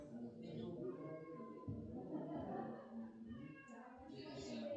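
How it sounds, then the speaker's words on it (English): A cat meows faintly a few times in a quiet room during a podcast recording, the short cries overlapping with people talking. "Why do I hear a cat?"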